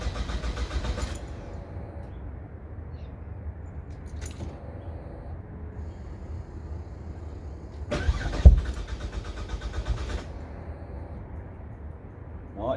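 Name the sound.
Ford FG Falcon turbo engine cranking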